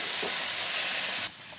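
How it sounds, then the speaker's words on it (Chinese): Chicken marinated in soy sauce sizzles as it is stir-fried in sesame oil with old ginger and sliced garlic, giving a steady close hiss that suddenly drops lower partway through. "少许麻油，加上老姜爆香，丢入蒜片，再炒一下酱油腌过的鸡肉"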